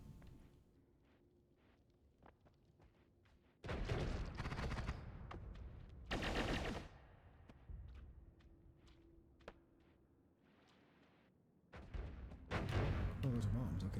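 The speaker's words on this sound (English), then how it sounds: "Oh, those are bombs, okay." Bombs exploding in the video game Noita, three loud bursts of rumbling blasts, each lasting a second or more, separated by quieter stretches of small clicks and ticks.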